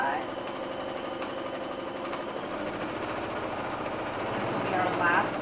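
A sewing machine stitches down the side of half-square triangle quilt pieces, its fast, steady mechanical chatter running continuously and close, with talking heard over it.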